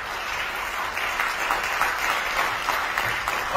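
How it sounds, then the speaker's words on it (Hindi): An audience applauds at a business presentation, giving steady, dense clapping that continues evenly at moderate volume for the whole stretch. "उस विजन के लिए जोरदार तालियां।"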